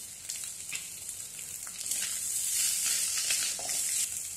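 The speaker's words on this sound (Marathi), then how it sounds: "आता आपल्या फोडी चांगल्या तेलामध्ये परतलेल्या आहेत" Bitter gourd pieces sizzle in hot oil, a steady close frying hiss that swells slightly as it goes, with faint stirring ticks and no voices.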